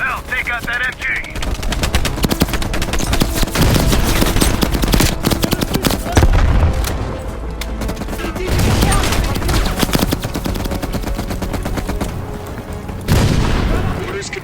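Loud machine-gun fire rattles in rapid bursts during a Call of Duty: Black Ops Cold War battle, mixed with booms and shouted voices.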